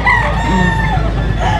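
A stag gamecock rooster crows loudly and up close, one sustained cock-a-doodle-doo call that fills the moment with no other voices.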